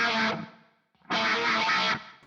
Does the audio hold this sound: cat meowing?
no